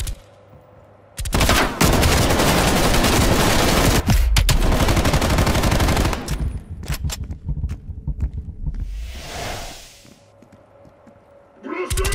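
Gunfire in Call of Duty: Black Ops Cold War: sustained rapid automatic shooting with dense overlapping bursts, then scattered single shots and a rushing blast-like swell, with brief game voices.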